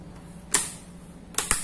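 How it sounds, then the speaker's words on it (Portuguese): A replacement battery pushed into a Lenovo laptop during a keyboard repair gives a few sharp plastic clicks and snaps, one near the start and a close double click near the end, with quiet room hum between them. "Vou colocar a bateria, que a bateria não tá boa mesmo."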